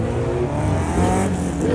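A loud car engine at a crowded night-time car meet, close by, with a dense low roar and revving harmonics that rise slightly near the end, heard alone.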